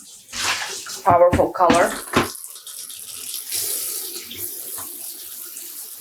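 Water runs steadily from a tap into a bathtub being filled to rinse hand-dyed non-superwash wool yarn, a continuous broadband rush that continues under a woman's speech in the first half and keeps going after she stops.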